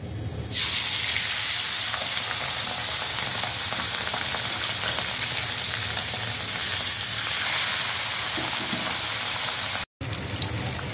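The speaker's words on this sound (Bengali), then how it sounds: "গরম তেলে এবার আমি ম্যারিনেট করা মাছ দিয়ে দিচ্ছি।" Marinated fish dropped into hot oil for a Bengali meal bursts into a loud, close sizzle that holds steady, with a momentary gap near the end.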